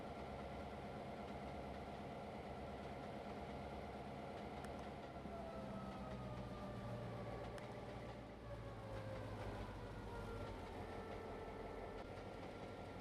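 A massive train rolls over a small hump in the Trainz Simulator game, its engine a steady low idle-like rumble with a continuous mid-range drone, without pause throughout.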